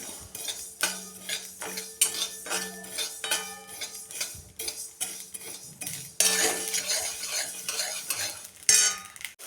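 Mustard seeds and cumin crackle in hot oil with garlic and asafoetida, a close sizzle broken by repeated metal spoon scrapes and clinks against the pan in an uneven rhythm, no talk.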